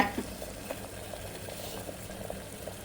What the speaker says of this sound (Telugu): నీళ్ళు కాగలేదండి ఉడుకుతున్నాయి కూడా